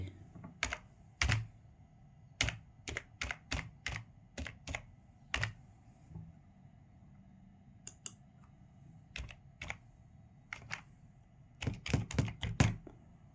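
A computer keyboard is typed on in short clusters of sharp, close key strikes while a username and password are entered. Quiet gaps separate the clusters, and a faint steady hum sits underneath.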